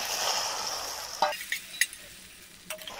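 A spoon stirs thickened milk for kulfi in a pan, with a steady frying hiss beneath and a few distinct scraping clinks standing out, no talking.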